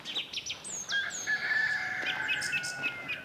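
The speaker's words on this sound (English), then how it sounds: "You can hear all the chickens in the background." Chickens on a farm in Peralta, New Mexico cluck and crow close by, with several overlapping calls and chirps in an uneven, busy pattern and no talking.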